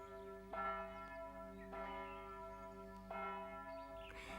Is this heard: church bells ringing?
yes